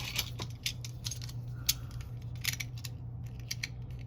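Scissors snip through paper while a pocket-journal card pocket is being made, giving several short, dry cuts spaced irregularly over a steady low hum, close and fairly quiet.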